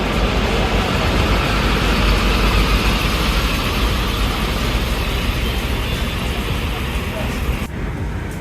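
A Santika bus on a Hino RN 285 chassis pulls into Grogol bus terminal, a loud continuous diesel engine rumble mixed with terminal bustle and road noise, close by, easing slightly at the end.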